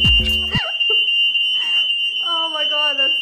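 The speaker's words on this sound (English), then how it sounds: "it set off the smoke alarm" A smoke alarm set off while French toast with banana cooks in a ceramic pan, sounding as a loud, steady high-pitched tone throughout while a person speaks over it.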